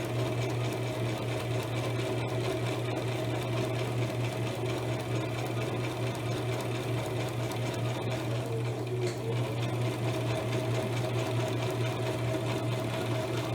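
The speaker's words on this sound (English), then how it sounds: "I'm going to continue to sew straight down until I get to the end of this fabric." A sewing machine stitches straight down fabric for a pillow cover, a continuous loud, even mechanical whir with a rapid needle rhythm throughout and no talk.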